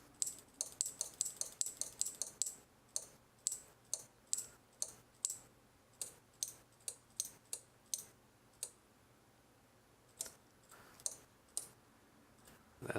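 A Sainsmart relay board driven by a Raspberry Pi clicks in a fast, fairly regular run of sharp, close ticks that then slow to spaced single clicks with short pauses between them.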